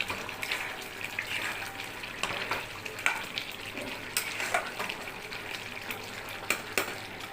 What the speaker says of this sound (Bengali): গরম মশলা দিয়ে ভালো করে নেড়ে চেড়ে